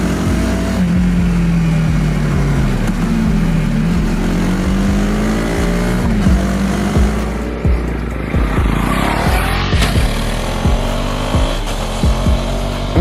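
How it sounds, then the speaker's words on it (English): A Husqvarna Vitpilen 250 motorcycle cruises at speed on the road, its engine note rising and falling under loud, steady wind rush, with brief changes in pitch as the rider works the throttle. "The motorcycle is happy cruising at 90-100 kilometers an hour"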